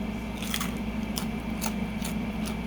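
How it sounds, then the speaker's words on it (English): Several crisp, crackly crunches in a row as crunchy fried pork skin is bitten and chewed, close up against a steady background hum. "this is the cuerito. Let's see how crunchy this is."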